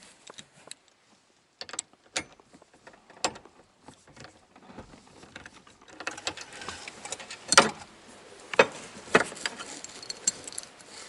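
Metallic clicks and ratcheting of a seat bolt being loosened in a 2003 Honda Civic EX coupe interior, sparse taps at first, then denser, louder rattling and clunks near the end.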